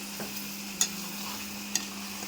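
A spoon stirs chicken curry in a cooking pot, two sharp scraping clinks against a steady low background hum, fairly quiet.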